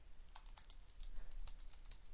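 Keystrokes on a computer keyboard while code is entered, a steady run of quick, light clicks close by, with no talking over them.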